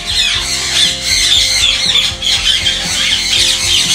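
Ringneck parrots in a breeding setup squawk repeatedly and loudly, a dense run of harsh calls filling the whole stretch with no voices over them.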